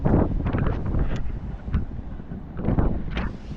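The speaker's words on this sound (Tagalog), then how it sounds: "Hinahangin ang ating lalagyan." Wind gusting against a microphone outdoors while fishing, rising and falling in loud rumbling bursts with short calmer stretches between, and no speech.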